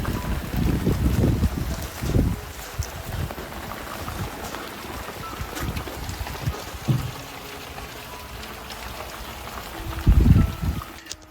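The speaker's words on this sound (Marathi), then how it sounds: "परत पाऊस सुरू झाला आणि परत काम थांबलं आहे" Rain falls on a garden under renovation as a constant soft hiss, broken by several low rumbling gusts of wind buffeting the microphone.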